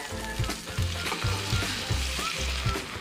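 Crispy mussel pancake frying in a hot pan, a steady close sizzle with soft scraping and stirring clinks repeating throughout, no talking.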